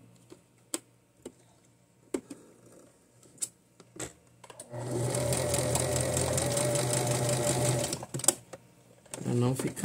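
A sewing machine stitches a zigzag on a skirt with lace insertion, running in a steady loud whir for a few seconds after scattered ticks and clicks of handling, with a voice speaking nearby.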